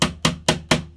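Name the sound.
hammering while assembling flat-pack furniture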